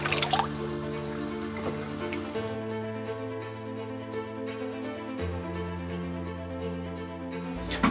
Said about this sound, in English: we've got to get the water out of the tank